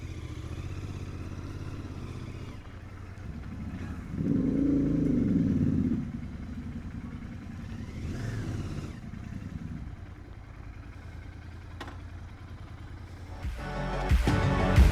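A Royal Enfield GT 650 motorcycle being ridden on the road from Bangalore toward Yercaud, its engine a steady low drone with wind rush, swelling briefly midway and rising again at the end.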